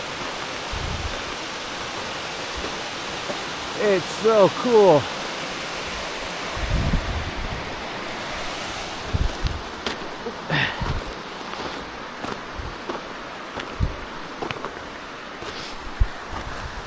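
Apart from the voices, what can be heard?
waterfall rushing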